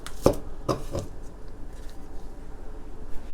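A knife chops through the ends of an onion on a cutting board, three sharp, close thuds in quick succession followed by quiet handling noise, with no talking.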